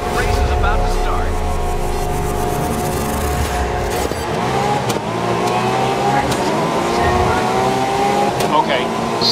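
Race cars in the video game Grid 2019 line up and start a race, engines revving and roaring loudly and continuously as the pack accelerates away.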